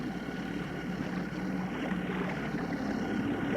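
Steady low engine drone of a research boat on open water at Lake Rezaiyeh, with a broad constant wash and faint wind, no voices.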